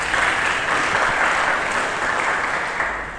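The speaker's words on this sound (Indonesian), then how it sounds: "Mari berikan tepuk tangan bagi Yesus." A church congregation claps loudly and densely during a worship service, the sound of many hands holding steady and then easing slightly toward the end, with no talking over it.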